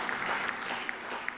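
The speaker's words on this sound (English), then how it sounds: "Let us clap for the Lord." A church congregation claps during a service, a dense, steady patter of many hands with a few sharper individual claps standing out, moderately distant and alone without speech.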